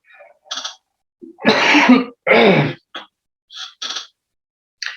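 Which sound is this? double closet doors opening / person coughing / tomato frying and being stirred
person coughing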